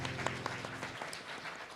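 An audience at a book launch event claps in a brief burst of applause that thins out after about a second into scattered hand claps and crowd murmur.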